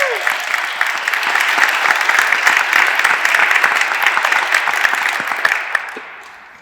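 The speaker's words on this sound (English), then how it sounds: "She deserves a round of applause too." An audience at a school district deconsolidation meeting in Idaho claps steadily in a dense, sustained round of applause filling the room, fading out toward the end.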